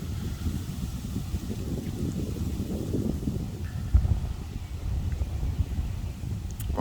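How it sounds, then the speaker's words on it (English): Strong wind in the aftermath of Tropical Storm Elsa in Hernando County, Florida, blowing steadily and loudly across the microphone with gusty low rumble and rustling throughout, no voices. "that wind is actually still surprisingly strong considering how far away it is now"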